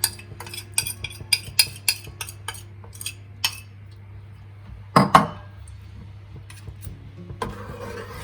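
Custard mixture is stirred in a pot, a spoon clinking and scraping against the metal in quick repeated strokes, then slowing to sparse knocks with a louder clatter midway over a low steady hum.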